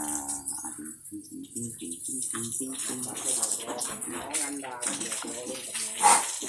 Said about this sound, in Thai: เราอาบน้ำค่ะคุณยายลักกี้ยังอาบอยู่